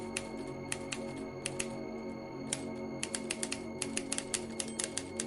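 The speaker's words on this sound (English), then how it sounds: "There was something about the monotonous movement of the typewriter keys that fascinated me." Typewriter keys clatter in an audio drama sound effect, a stream of sharp, irregular clicks that thin out and then bunch together, heard over a steady low hum with no voices.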